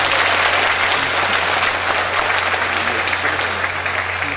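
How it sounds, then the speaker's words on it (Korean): Sustained applause from an audience at a Korean poetry-recitation award ceremony, a dense, even wash of clapping that stays loud throughout without letting up. "박수 부탁드립니다"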